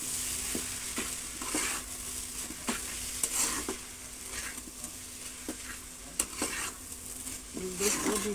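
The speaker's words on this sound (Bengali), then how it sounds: "এখন আমি নুডলসটা ঢেলে দেব।" Noodles stirred and frying in a pan with scrambled egg, a steady soft sizzle under repeated scraping and tapping of a utensil against the pan, close and fairly quiet.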